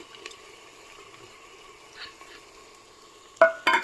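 Coriander fries in a pan for chicken pulao, giving a faint, steady sizzle, with a couple of sharp stirring scrapes near the end and no voices.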